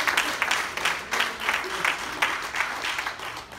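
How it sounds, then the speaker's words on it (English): Church congregation clapping hands in praise, a lively round of many hands with a pulsing, rhythmic rise and fall, heard up close and filling the whole stretch. "Y'all give God another hand clap."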